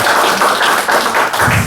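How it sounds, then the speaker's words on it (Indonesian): A church congregation at a Sunday service claps together in worship, a loud, dense burst of rhythmic clapping close by with no talking over it. "Tepuk tangan bagi Tuhan kita"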